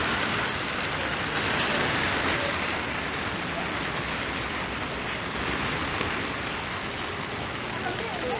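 Steady, dense rain hisses across a Toronto city street, even and continuous throughout with no clear breaks.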